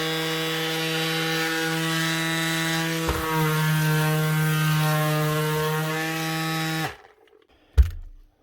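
A Bosch PSM 18 Li 18-volt cordless sander, freshly fitted with a new bearing, runs with a steady, loud whine that steps briefly in pitch. It then switches off, leaving near silence broken by a single sharp click.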